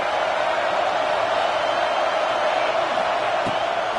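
A football stadium crowd at an FSU scrimmage roaring on third down, a loud, steady wash of cheering and crowd noise from all around, with no clear individual voices.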